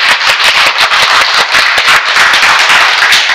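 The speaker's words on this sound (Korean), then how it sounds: "박수" A church congregation claps together loudly and continuously, a dense, steady wash of many hands with no voices on top.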